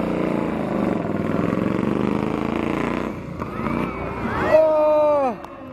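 A stunt motorcycle at a 2019 motorcycling meet in Neza rides past amid a crowd, its engine a steady loud drone under the chatter of spectators, followed by rising and falling whines as it passes close by.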